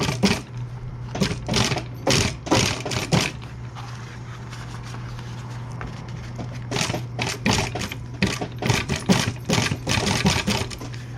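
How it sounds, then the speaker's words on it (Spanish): A needle and thread being pulled through leather while hand-stitching a steering wheel cover: repeated rhythmic bursts of rasping, drawn-out pulls, close and fairly loud, with a pause midway and a steady low hum underneath. "Pongo la aguja ahí y sigo cosiendo."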